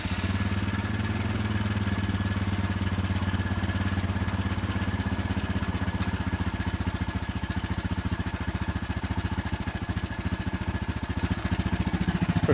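A 2001 Honda Foreman 450 ATV engine runs steadily after a cold start with the choke on, making a loud, close, continuous single-cylinder chug with mechanical clatter for the whole stretch and no talking.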